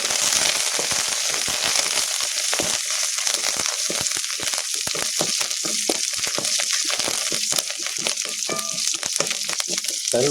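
A handful of curry leaves sizzles and spits in hot oil for Kanchipuram pepper kuzhambu, giving a dense, continuous crackle with rapid sharp pops throughout, close and loud with no talk.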